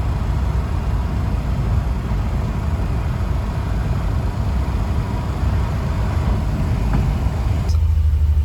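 A Ford Pinto drives along a Tennessee road, a steady loud low engine and road rumble heard from inside the car without break, with no one talking.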